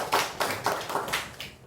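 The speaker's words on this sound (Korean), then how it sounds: "환영의 박수 하겠습니다" A church congregation in Korea claps together in welcome, a handful of loud, close, rhythmic claps in an even beat lasting under two seconds.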